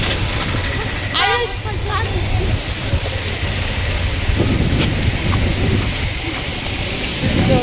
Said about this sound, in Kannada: ಮಳೆ ನೋಡಿ ಗೈಸ್, ಮಳೆಯಲ್ಲಿ ಈ ಥರ ಹೋಗೋದು ನಾವು.